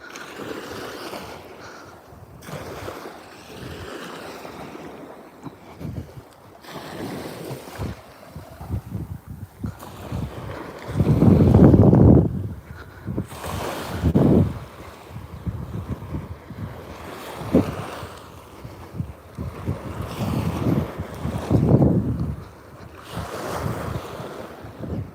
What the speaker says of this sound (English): when I stop talking for a bit and I just listen to the ocean, man, that sounds amazing